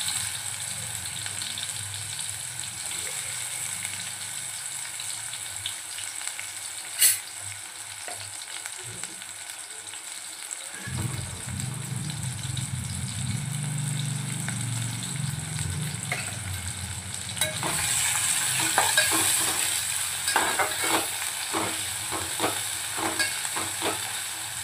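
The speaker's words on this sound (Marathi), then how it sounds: "तेल छानपैकी गरम झाले की त्यात आपण कांदा आधी तळून घेऊया." Onions frying in hot oil in a pan for egg dum biryani, a steady close sizzle that swells louder midway and turns crackly with sharp pops toward the end.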